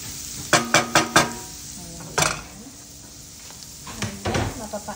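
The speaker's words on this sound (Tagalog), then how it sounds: "I-brown lang natin siya guys sa butter." Garlic browning in butter in a pan, with a soft sizzle under a run of quick spatula knocks, followed by scattered clatter and stirring.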